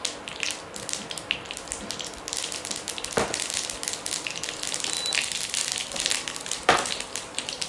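Mustard seeds spluttering in hot oil for a rava dhokla tempering, a continuous crackling sizzle with sharp pops and two louder bursts, close and fairly quiet.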